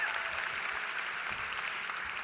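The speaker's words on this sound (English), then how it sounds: "That deserves an applause" Steady, dense applause from a gala audience in a large room, continuous and even throughout with no voices standing out.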